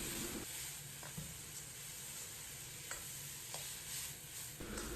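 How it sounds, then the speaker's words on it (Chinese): Blanched lobster tails tossed in a hot wok with a splash of soy sauce: a steady sizzling hiss broken by a few quick scraping stir strokes, close but fairly soft, with no talking. "放入焯水的虾尾，简单翻炒扒拉1-2下，烹入少许生抽酱油"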